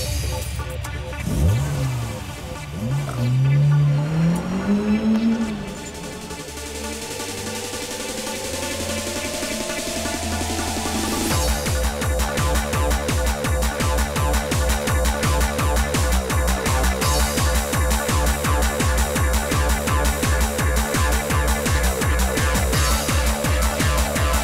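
A Citroen Saxo is driven hard around a strip, its engine revving loudly through rising gear changes with a steady, dense roar close by, then holding a sustained high-revving drone; tire squeal is not clearly distinct.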